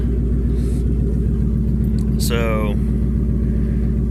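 An FML 250 engine idling with its exhaust cut off and a clogged catalytic converter removed, giving a loud, steady, raw low rumble throughout while someone speaks briefly over it.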